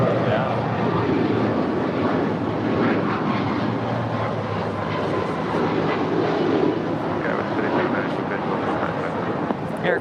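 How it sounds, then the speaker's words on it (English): An Air Canada Boeing 737 MAX 8 jet, four years old, departs LAX for Toronto with a loud, continuous engine roar that holds steady throughout, with voices faintly underneath. "Air Canada 792 off to Toronto. 4-year-old MAX 8."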